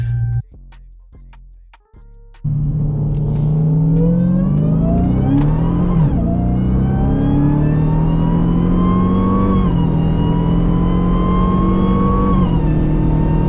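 An Audi RS5 accelerates hard, its engine note rising steadily and loudly after a few short blips, the pitch sweeping upward through gear changes with no voices over it.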